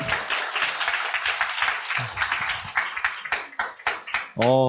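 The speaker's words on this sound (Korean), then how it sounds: "박형근 사장님께 다시 한번 큰 박수 보내드리겠습니다" An audience at a business group meeting claps for the main lecturer, a dense burst of applause that thins into scattered individual claps before a voice cuts in at the very end.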